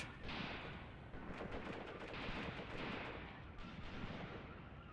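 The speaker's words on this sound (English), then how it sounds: "Let's see if we can have Ving bombard this part" Artillery bombardment in the Mius Front World War II game rumbles as a continuous low roar of distant shelling and gunfire, steady and fairly faint throughout.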